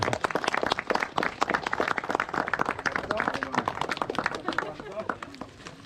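Scattered applause at a fishing competition prize ceremony for the second-place winners, loose individual claps from a small outdoor crowd mixed with people talking over it.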